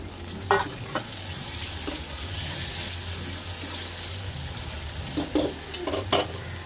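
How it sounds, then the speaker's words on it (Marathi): Tomatoes sautéing in a pan for a vatana batata bhaji, a soft steady sizzle with occasional spoon scrapes and stirring clicks, fairly quiet and close, with no talking. "चांगलं परतून घेऊ टोमॅटो."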